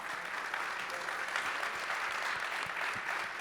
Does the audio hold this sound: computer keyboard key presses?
no